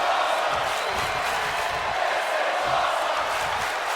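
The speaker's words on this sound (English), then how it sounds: "drawing a big reaction from the crowd." A virtual arena crowd in the wrestling video game WWE 2K25 roars and cheers during a SmackDown match, a steady loud wash of crowd noise with occasional shouts.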